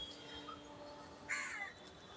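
Crows caw over a quiet rooftop in the morning, one loud harsh call standing out near the middle above a soft steady background hum.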